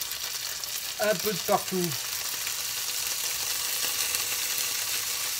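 Boudin blanc sausages sizzle in a frying pan with a steady, close crackling hiss, while a voice speaks briefly near the start.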